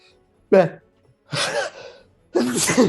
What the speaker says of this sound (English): bad time for a sneeze